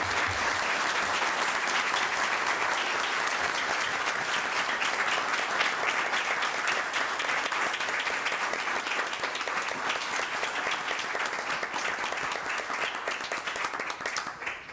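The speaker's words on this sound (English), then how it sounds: "could you join me in giving a round of applause for these outstanding students?" A school board meeting audience applauds a group of outstanding students, steady full clapping from many hands that carries on without a break for the whole stretch, loud and close, with no talking.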